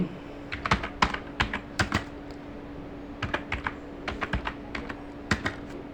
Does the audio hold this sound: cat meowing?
no